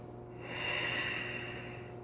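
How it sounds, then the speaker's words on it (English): A long, steady breath during a seated yoga-style strength sequence, rising at about half a second and holding as a soft, close airy rush before easing off, with no talking. "Breathe."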